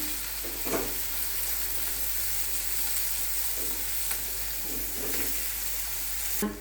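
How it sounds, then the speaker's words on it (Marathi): Onion with curry leaves sautés in a hot pan for a Marathi vegetable dish, a steady close sizzle with occasional stirring scrapes and soft clinks, and no voices. "कांदा मस्तपैकी परतून घ्यायचा आहे।"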